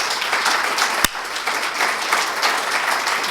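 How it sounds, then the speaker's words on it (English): A crowd applauds the core project team at a grand opening event, with sustained many-handed clapping that holds at a steady, full level and one sharp louder clap cutting through near the start. "let's give them a round of applause"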